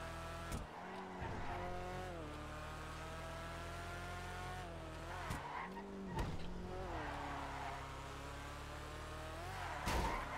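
A car in GTA Online drifts and slides, tires squealing over a steady engine drone that dips and surges as the revs shift, with brief scrapes and knocks along the way.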